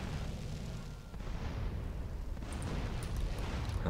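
Continuous roaring rumble of rocket explosions and gunfire in the video game GTA San Andreas, a dense, loud wall of booming noise with brief crackling bursts and no talk.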